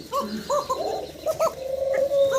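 A pair of cocker pigeons coo softly in repeated low rolling phrases, close by, with no voices.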